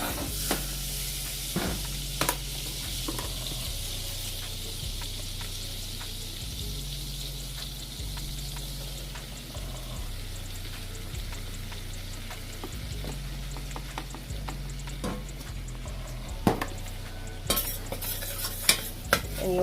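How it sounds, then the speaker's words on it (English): Flour being stirred into melted butter in a pan, with a steady scraping stir over a soft sizzle that runs nearly twenty seconds, close and even, with a few sharper utensil clinks near the end. "And you want to mix in the flour into the butter."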